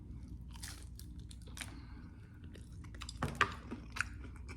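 Close chewing of pizza dipped in ranch, soft wet mastication with a few louder crunchy bites near the end, intimate and quiet.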